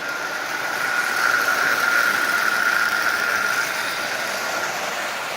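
A Marx 999 toy train locomotive runs steadily nearby, with a smooth motor whir and a thin tonal whine. The whine swells slightly in the middle and then eases, with no talk.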